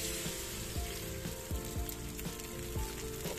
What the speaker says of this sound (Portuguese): Já tá aqui fritando, agora eu vou colocar o ovo.